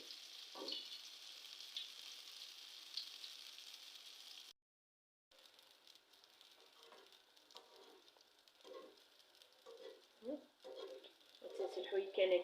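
Kabyle beignets frying in oil, a faint, steady hiss with a short dropout midway, then soft pops and bubbling bursts that grow louder toward the end.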